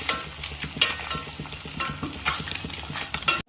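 A spatula scrapes and stirs rhythmically against a pan while ingredients for home-style egg biryani roast, giving a steady clatter of close, repeated strokes over a faint sizzle, with no talking.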